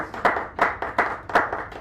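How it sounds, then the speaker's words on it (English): Small audience at an open mic poetry night in a San Francisco cafe clapping in a light, uneven patter, with a few stronger bursts that rise and fade over a short stretch. "Give me a little round of applause."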